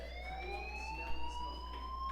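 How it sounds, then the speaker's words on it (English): A fire alarm ringing inside the video game Life is Strange, a steady electronic tone slowly rising in pitch with a low hum beneath, continuous and moderately loud with no talking. "Do you hear that fire alarm?"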